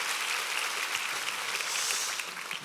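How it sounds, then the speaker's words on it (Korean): Congregation applauding a mixed church choir at a summer revival service, dense sustained clapping from a large crowd filling the room, even and continuous before easing slightly at the end. "우리 1부 3부 혼성성가대 우리 조영균 지휘자팀에게 한번 격려 박수 부탁합니다"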